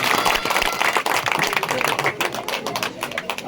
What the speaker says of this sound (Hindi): तालियों से इनका स्वागत किया जाए